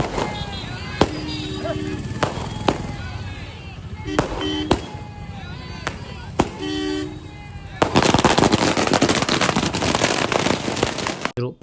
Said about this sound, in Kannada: ಬಸವೇಶ್ವರ ಸರ್ಕಲ್ನಲ್ಲಿ ಪಟಾಕಿ ಸಿಡಿಸಿ ವಿಜಯೋತ್ಸವ ಆಚರಿಸಿದರು.